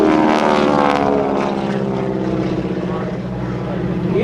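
Merlin-powered North American P-51 Mustang passing at an air show, a loud, close propeller roar with a wavering engine drone that shifts in pitch as it goes by.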